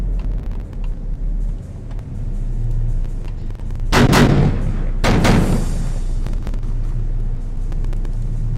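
Ship guns fire in the naval video game Victory at Sea Pacific with two loud, booming blasts about a second apart, each trailing off into a rumbling echo over a steady low engine drone, with no talking.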